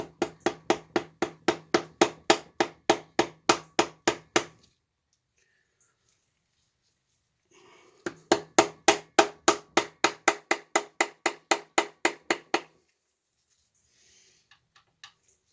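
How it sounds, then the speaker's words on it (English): Steady metal hammer taps during a 360 Mopar V8 engine teardown, two bursts of about twenty even, ringing strikes separated by a quiet pause, close and loud with no talking. "now we just need to take a little hammer here"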